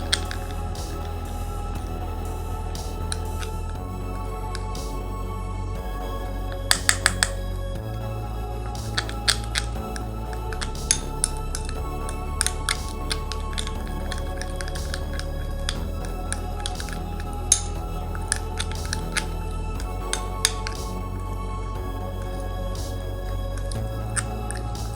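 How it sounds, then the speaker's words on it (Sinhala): A homemade coconut milk cream mixture is stirred steadily in a bowl, giving soft wet squishing with scattered sharp clicks and taps from the utensil, close and continuous throughout. "මේ විදිහට හොඳට කලවම් කරගන්න ඕනේ."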